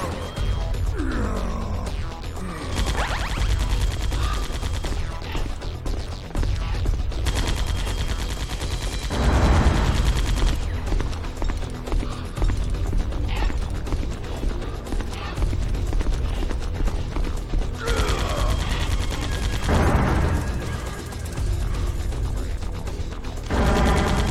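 Gunfire in Metal Gear Solid: The Twin Snakes comes in repeated loud bursts and rapid volleys spread over a busy, continuous game soundscape.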